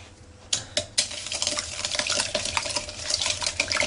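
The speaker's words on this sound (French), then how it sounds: "Vous battez bien ce mélange jusqu'à ce qu'il soit un peu plus mousseux." A whisk beating eggs and sugar for crêpe batter until frothy: rapid, continuous metallic clinks against a bowl, close and fairly loud, with a few sharper knocks near the start.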